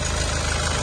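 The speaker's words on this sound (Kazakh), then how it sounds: "Мынакей 2 объемдогу дизельный мотор." A 2018 Kia Sorento's 2.0-litre diesel engine idles steadily, with a low, even pulsing rumble and faint knocking. The sound is close and constant, and no one speaks.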